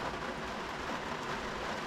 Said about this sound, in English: And it is pretty heavy rain